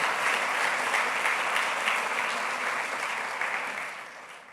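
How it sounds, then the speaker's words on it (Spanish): A church congregation claps steadily during a sermon for several seconds, the applause full and even before gradually tapering off. "¿Qué tal si le damos un aplauso al Señor?"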